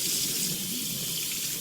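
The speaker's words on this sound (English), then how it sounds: "You can go ahead and turn the water on" Water running from a kitchen sink tap ahead of bathing a cat: a steady, full rushing stream splashing into the basin, close and continuous without a break.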